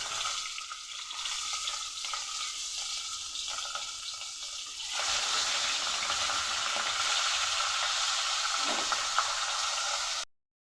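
Fish frying in oil in a home kitchen pan, a steady hissing sizzle that grows louder and broader midway and continues without talk until it cuts off abruptly.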